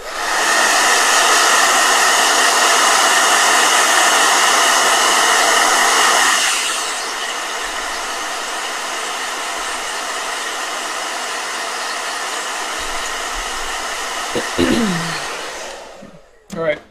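A hair dryer blows with a steady, loud whooshing roar, dropping to a lower setting partway through before clicking off near the end.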